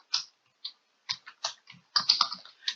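Typing on a computer keyboard while editing text in a calendar template, a quick scatter of light key taps and clicks, some single and some in short bursts, close and clear with no talking.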